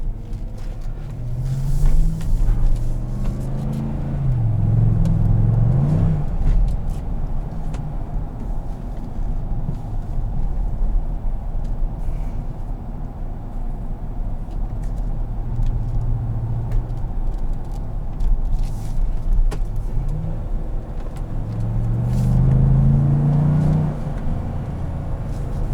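A 2017 GMC Sierra All Terrain pickup's engine rumbles steadily while driving on a suburban road, low and moderately loud with brief swells of acceleration near the start and end.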